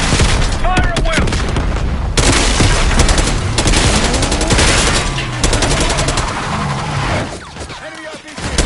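Loud, dense gunfire in the Black Ops 6 campaign: sustained automatic bursts and heavy booms run almost without pause, with shouted voices mixed in.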